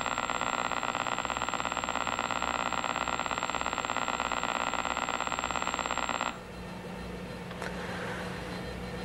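A Color Computer sounds its highest-pitched tone, a shrill continuous electronic whine at steady level lasting about six seconds before stopping suddenly, followed by quiet background hiss.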